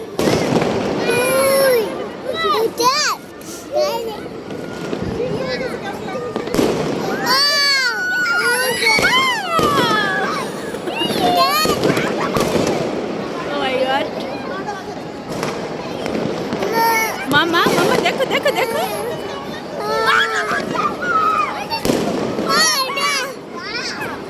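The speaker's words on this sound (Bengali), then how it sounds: "সে এত বাজি ফুটাচ্ছে মানে শব্দে" New Year's firecrackers and fireworks burst repeatedly at varying distances, sharp cracks and booms scattered throughout, while children chatter and a baby cries nearby.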